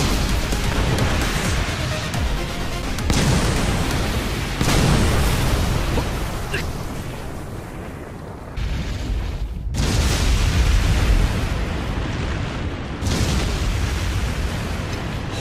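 Explosive weapon launch in One Punch Man anime as Metal Knight fires his new weapon: broadband rumbling blasts with sudden bursts, sustained loud booming and roaring over about fifteen seconds with brief dips between surges.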